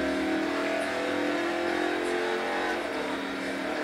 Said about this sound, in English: it has that characteristic sound from the muscle cars.